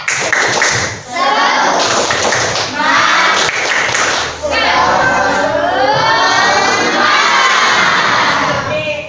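Classroom children loudly shouting and chanting a rhythmic tepuk semangat clap routine in unison, with claps and thumps punctuating the group chant, near and energetic throughout.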